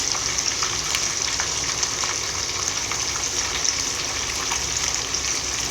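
Snakehead fish frying in hot oil, a steady close crackling sizzle with scattered pops that runs unbroken throughout, with no talking.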